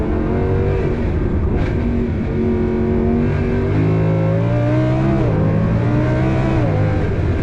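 A 1230 hp twin-turbo V10 MTM Audi R8 pulls hard on the Nürburgring, a loud, close engine roar that climbs through the revs, drops briefly at a shift and climbs again.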